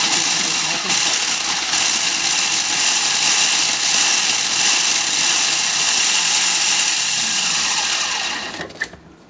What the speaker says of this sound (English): I'm going to use the food processor to speed out the process.